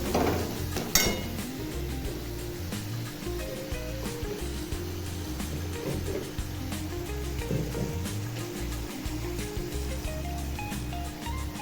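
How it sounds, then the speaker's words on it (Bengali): Ground cumin and coriander stir-fry in a pan for an egg tarka, with a faint continuous sizzle, intermittent clinks and scrapes of a utensil against the pan, and a low steady background hum. "জিরে গুঁড়ো আর পরিমাণ মতো ধনে গুঁড়ো দিয়ে দিলাম। দিয়ে আর একটু ভালো করে কষাবো।"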